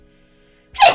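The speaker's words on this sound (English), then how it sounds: "How can I sneeze when it's so warm in here?" A single sharp, close sneeze bursts out after near silence, loud and brief, ending the moment abruptly.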